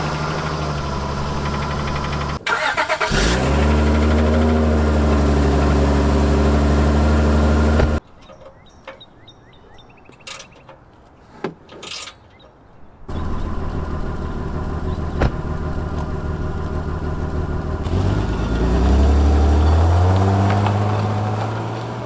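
A Volkswagen Mk7 GTI with its exhaust resonator deleted drones at a steady idle, goes quiet for a few seconds with faint clicks, then comes back and rises in a short rev. The engine is heard close, with no talking.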